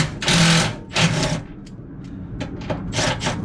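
Impact gun undoing the passenger seat bolts inside a VW Transporter T5 van, running on 16 mm air line: loud rattling bursts of hammering, several short runs with brief pauses between them, close to the mic.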